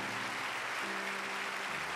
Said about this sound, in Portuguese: Aplauda, Senhor, forte, porque Ele é santo, Ele é Deus.